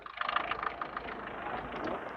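A 1.6-litre diesel car engine idles with a steady, even mid-pitched rumble and a slight rattle, close by and unchanging.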